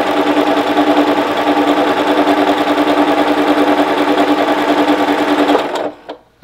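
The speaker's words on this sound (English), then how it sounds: "and we'll stitch" Sewing machine stitching quilt blocks, a steady, loud, fast mechanical whir running continuously for several seconds before stopping abruptly near the end.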